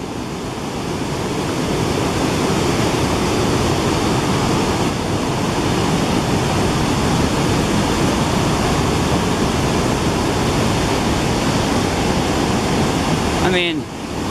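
Water from an open dam on the Pine River rushes down rocks, a loud steady broadband roar filling the whole scene until a brief disturbance near the end.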